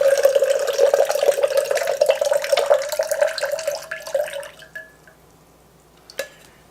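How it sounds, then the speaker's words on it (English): A mixed drink poured back and forth between Boston shaker tins gives a steady, close splashing stream for about four seconds that then tapers off, followed by a single small metallic clink near the end. "you're gonna pour the drink back and forth"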